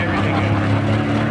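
Pulling tractor or truck at a truck and tractor pull, its cylinders pounding in a loud, steady low roar during a run, heavy and continuous throughout.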